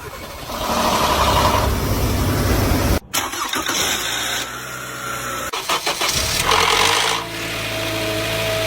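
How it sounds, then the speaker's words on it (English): A used car engine is started cold: starter cranks, the engine catches and revs, briefly cuts out, then restarts and settles into a loud close idle. "I want to hear that thing start cold"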